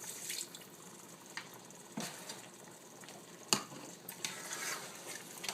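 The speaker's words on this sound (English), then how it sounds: "We're going to stir it." Rice is stirred in a pot with liquid, a faint wet swishing with a few sharp scrapes and knocks of a utensil against the pot, quiet and close, with no voices.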